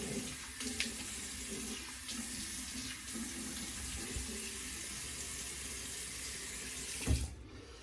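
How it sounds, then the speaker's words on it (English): Water running from a tap to rinse an alum block, a steady close splashing stream with slight shifts as the block moves under it, ending in a brief knock as the flow stops. "Let me rinse off the alum block."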